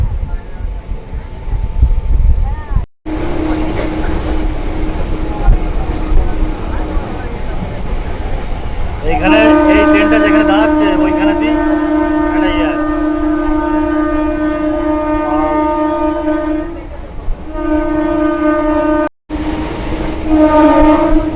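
A local train runs from Katwa toward Barddhaman with a steady, loud rumble. Its horn sounds in a long sustained blast partway through, and the rumble carries on under it.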